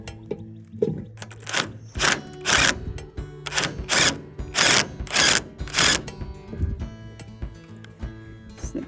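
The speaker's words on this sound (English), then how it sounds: "when I click the trigger, those snippers start snipping" Battery-powered electric snippers cutting roofing material, heard as a run of loud, regular mechanical snipping bursts at close range, one after another, then fading out.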